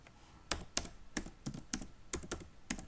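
Code is typed on a computer keyboard in a Jupyter notebook, giving a run of about a dozen distinct, close key clicks in an uneven rhythm with no talk.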